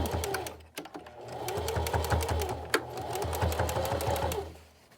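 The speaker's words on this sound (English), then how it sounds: "I can just continue stitching down towards where my next tie will go" A sewing machine stitches down a tie on a fabric window mask with a vinyl window, a close, steady rapid mechanical chatter that runs continuously for several seconds before slowing to a stop.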